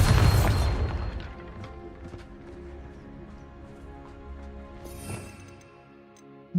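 Bombarda blasting spell cast in the video game Hogwarts Legacy, a loud booming burst at the start that fades under background game music, with a second smaller impact near the five-second mark.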